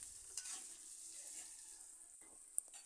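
Onions with salt frying in a pan for an egg vegetable pasta, a soft steady sizzle with occasional scrapes and clicks of a spoon stirring, quiet and close throughout.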